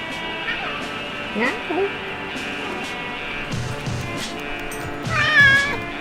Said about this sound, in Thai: แมวร้องครับ